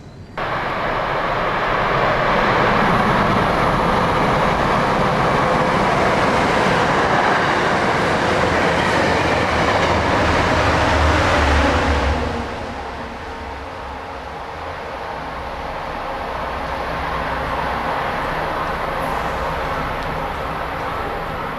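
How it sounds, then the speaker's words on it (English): A new MBTA Orange Line subway train rushes loudly past the platform at Forest Hills, a sustained roar and rumble that drops sharply partway through and then swells again faintly as it continues. "we have yet another new Orange Line train."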